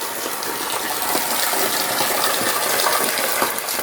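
Spring water gushes steadily from a pipe at a concrete mountain water tank, a continuous loud rushing splash with no break and no voices.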